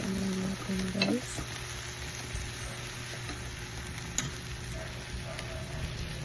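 Pork and liver fry in sauce in a pan, giving a continuous, moderate sizzle with occasional soft clinks of stirring throughout.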